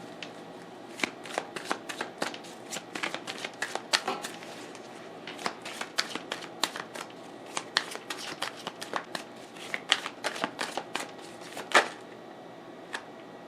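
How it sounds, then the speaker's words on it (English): Tarot cards being shuffled by hand in a steady run of crisp riffling bursts, close and fairly quiet, with no talking. "One card clarification."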